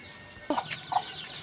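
Two short, soft clucks from nearby twelve-day-old native chicks, spaced a few tenths of a second apart over a low, steady background hiss.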